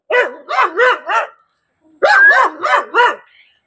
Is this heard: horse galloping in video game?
no